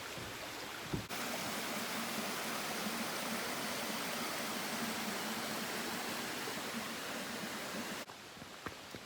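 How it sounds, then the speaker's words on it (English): A river flowing near Upper Whiteoak Falls in Shenandoah National Park gives a loud, steady rushing roar that fills the whole stretch, with brief quieter moments at the very start and end. "we're just walking along the river"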